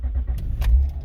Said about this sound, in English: The car does start,